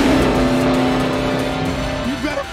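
A car accelerating hard in a film chase scene, its engine a loud, close, sustained roar holding a strong rising tone before dropping off and warbling near the end, with tyre noise mixed in.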